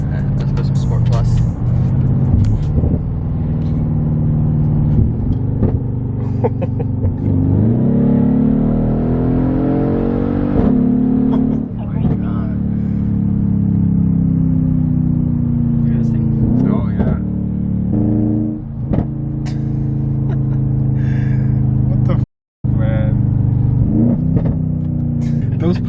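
A straight-piped Mercedes GLE 63 AMG, exhaust with no mufflers, rumbles loudly and revs repeatedly with sharp pops and crackles. Occupants talk over the engine for most of the stretch.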